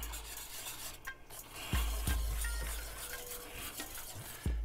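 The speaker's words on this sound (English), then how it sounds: "We're gonna whisk that up" A whisk scrapes and taps steadily in a bowl of cream corn mixture with butter, a few sharp clinks against the bowl standing out over a low room hum, with no voices.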